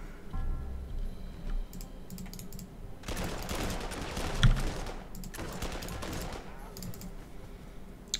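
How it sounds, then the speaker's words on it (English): Heavy 105mm Vickers artillery firing in the strategy game Panzer Corps 2 during the Spanish Civil War, two dense booming bursts of rolling noise between quieter stretches with ticking interface clicks. ".105mm Vickers artillery pieces."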